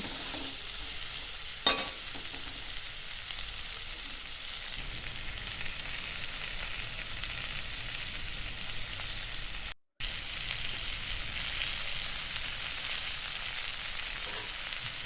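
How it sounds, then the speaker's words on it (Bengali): Chopped papaya and mango frying in a pan for a sour fish dish, giving a continuous hiss of sizzling with occasional utensil scrapes and a brief dropout midway, no talking. "এটা কাটা পেঁপে পেঁপে আর আম দেওয়া হয়েছে দিয়ে আমরা হচ্ছে দুটোকে ভালো করে কষে নিচ্ছি"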